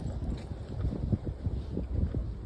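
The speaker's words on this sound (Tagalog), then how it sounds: "Di ba lakas ng hangin, guys?" Strong wind gusts through a forest, buffeting the microphone in a low, rumbling, uneven roar that pulses in irregular bursts throughout, fairly quiet, with no voices.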